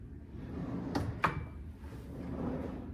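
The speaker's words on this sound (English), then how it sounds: "empty drawer." A drawer in a hotel room near Melbourne Airport slides open, giving a short scrape and a sharper clack with a faint ring, set against quiet room tone.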